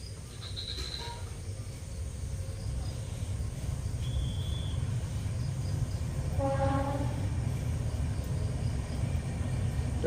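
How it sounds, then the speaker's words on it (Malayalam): A train runs along a nearby railway track on a drizzly morning, a low continuous rumble with a brief horn-like tone, heard at a moderate distance with faint insect chirping and no talking. "അതാ ട്രെയിൻ പോകുന്ന സൗണ്ട് കേൾക്കും."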